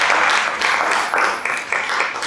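A conference audience at Games Ground 2024 applauds as a speaker is welcomed to the stage, producing steady, dense clapping that swells and dips slightly throughout.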